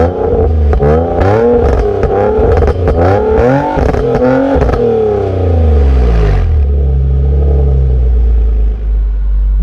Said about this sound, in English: My car sounds a little different now. I feel like when it pops, it sounds kind of watery.